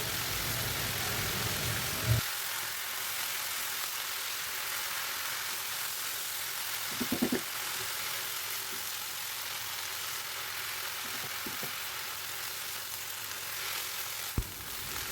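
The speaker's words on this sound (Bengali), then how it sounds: "এবার শিং মাছের ডিম এবং সিদ্ধ করা শাক পেঁয়াজ রসুন বাগারের সাথে ভালো করে এভাবে নেড়ে চেড়ে মিক্স করে নিলাম।" Shing fish roe stir-fried with boiled drumstick leaves, onion and garlic gives a steady, loud sizzle throughout, broken by a few soft scrapes and knocks from stirring.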